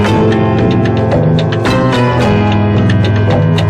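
A dense, warbling mix of electronic tones and tape loops, layered, churns continuously and loudly, with bright chirps flickering over a steady low drone.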